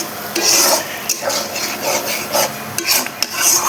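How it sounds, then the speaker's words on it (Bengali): Spice paste with poppy and melon seeds is stirred and sautéed in a pan, giving repeated close scraping strokes of a spatula over a soft sizzle in an uneven rhythm, with no talking. "এখন এটা দিয়ে ভালো করে কষাবো"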